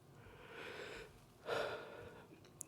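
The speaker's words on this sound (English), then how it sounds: "Take a deep breath." A slow deep breath during a calm guided pause: a soft drawn-out inhale followed by a fuller, louder exhale, close and quiet, with no talking.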